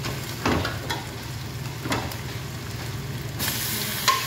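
Two pieces of marinated chicken hit a hot pan and sizzle, a steady close frying hiss with a few clanks of utensils, and no talk.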